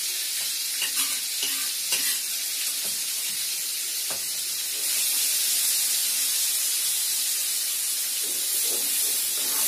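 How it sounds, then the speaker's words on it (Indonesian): Spice paste sautés in a pan with a loud, continuous hiss and sizzle, close by, as a utensil stirs and scrapes now and then. The frying grows slightly stronger partway through. "saya akan menumis bumbunya terlebih dahulu"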